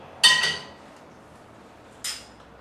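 A metal pan clanks down onto a stovetop burner, a sharp ringing knock followed by a second lighter clink, close by with no talk.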